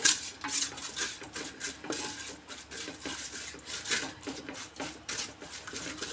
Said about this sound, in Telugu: తగినంత ఆయిల్ వేసుకోవాలి, వేసుకుని బాగా కలిపేసుకోవాలి.